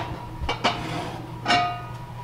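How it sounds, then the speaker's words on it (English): Heavy lid lifted off a cast-iron Dutch oven inside an off-grid oven: a few metallic clanks and scrapes, one near 0.6 seconds and a ringing clank around 1.5 seconds, close and fairly loud. "I'm going to reach in the oven and remove the lid to this Dutch oven"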